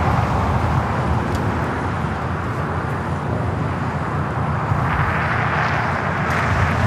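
A KLM Dreamliner airliner at LAX roars steadily and loudly throughout, a broad continuous engine rumble that swells slightly toward the end, with no talk over it.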